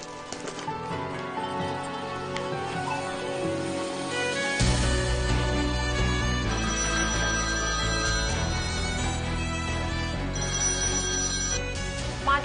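A telephone ringtone plays loudly and continuously as a melodic, repeating tune that grows fuller partway through, with no one talking over it.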